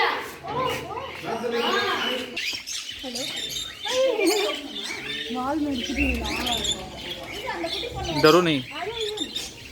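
Birds chirp and squawk around a bird park walk, busy calls mixed in with people talking close by and chattering throughout.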